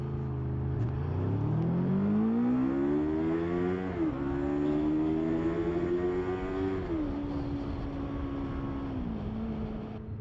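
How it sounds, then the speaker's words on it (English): A Honda VFR750 motorcycle engine revs up through its rev range on a country lane, pitch climbing steadily in several rising pulls with brief dips between gear changes, loud and close throughout with no talking. "about time I give the bike a bit of a run out in the rev range"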